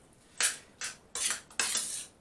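Egg noodles tossed into a stir fry pan with chicken and garlic Kiev, giving four sharp clattering bursts in an uneven rhythm, close and fairly loud, with no talk.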